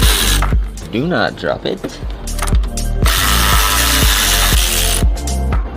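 Ratchet wrench and power tool working the 13 mm strut bolts on a car up on a lift, with rapid clicking bursts and a steady whirring tool run, close and loud, while a person speaks briefly.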